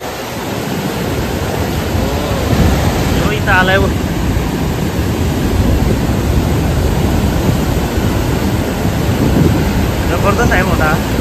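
Rough, churning sea waves during mullet fishing roar in a continuous heavy wash close by, rising in loud surges, while someone speaks briefly over the noise.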